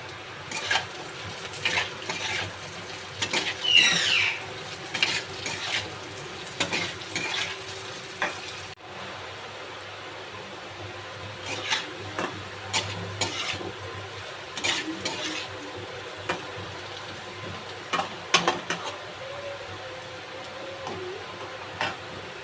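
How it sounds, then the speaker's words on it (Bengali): Potato pieces fry with browned onions in a pan for a fish and potato curry. The sizzle stays low and steady under frequent clicks and scrapes of a spatula stirring, close by, with no voices. "এবার আমি আলুগুলো দিয়ে ভেজে নেব ভালো করে"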